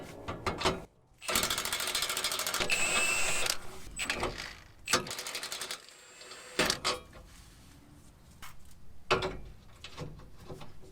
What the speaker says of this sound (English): This may be a job for the impact all the way through